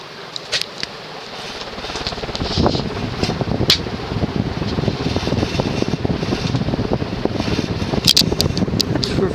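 A Shi Chen 52-inch GE-Vent ceiling fan with an industrial motor running fast, a steady broadband whoosh of moving air with faint clicks and knocks, close and continuous.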